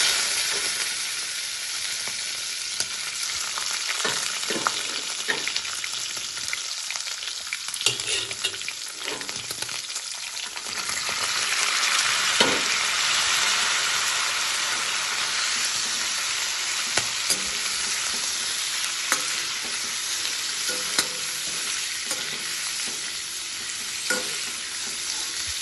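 Wild boar meat frying in a pan with cumin seeds and a chili: a loud, continuous sizzle and crackle with scattered sharp pops and stirring scrapes, growing briefly hotter partway through.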